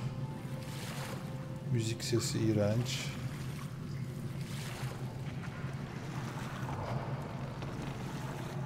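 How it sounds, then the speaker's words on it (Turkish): Boat gliding across water in the post-apocalyptic game Metro Exodus, a steady wash of waves and wind with a low engine drone throughout, while someone talks over it and game music plays briefly. "Teknemizle gidiyoruz."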